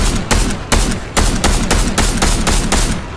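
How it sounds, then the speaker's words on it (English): Fortnite gunfire in a duos match: a loud, close string of sharp shots, roughly eight bursts spaced about half a second apart, with no talk over them. "Oh, my boy's shooting at you, not me, you stupid idiot."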